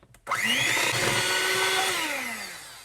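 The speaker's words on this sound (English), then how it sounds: "I'll give that a good whisk in there" An electric mixer whirs loudly and steadily through Guyanese black cake batter with vanilla extract and almond essence, starting abruptly after a brief click and slowly dropping in pitch near the end.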